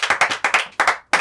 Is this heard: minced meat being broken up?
no